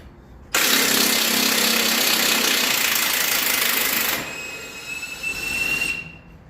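A lower control arm bolt screeches loudly as it is worked out, a harsh, sustained metallic squeal up close for several seconds that then drops to thinner whining tones and scraping.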